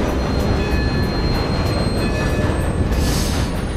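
A train ride in the video game Red Dead Redemption 2 gives a loud, steady rumble of rolling wagons with faint rhythmic wheel clatter and a brief high squeal near the end.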